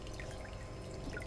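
Water pumped through a gold concentrator sluice over its riffles, a steady quiet pour and trickle with faint dripping, continuous and unbroken for the whole short stretch.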